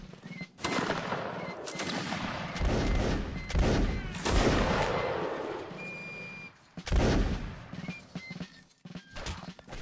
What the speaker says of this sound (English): Go ahead and keep firing.